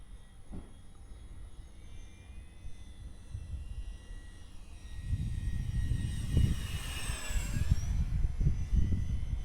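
RC model F-86 jet on a slow pass, a high whining turbine tone that swells and then bends downward as it goes by, with rumbling wind and engine noise building underneath.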